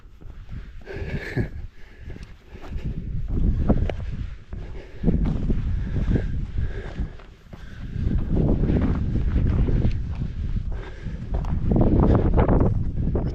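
Strong gusty wind blows across a hillside at Simonside in Northumberland, roaring and buffeting loudly against the microphone in surging waves with brief lulls. No one talks.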